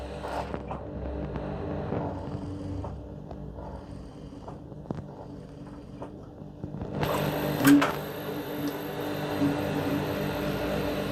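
A sewing machine runs in steady bursts stitching a piping seam, its motor hum growing louder and brighter partway through as the needle speeds up.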